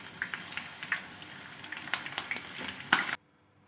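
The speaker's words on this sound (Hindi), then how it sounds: "इसी तरह मैं सारे बैंगन फ्राई कर लूँगी।" Eggplant slices fry in a pan of oil with a steady, close crackling sizzle sprinkled with small pops, which cuts off abruptly into silence near the end.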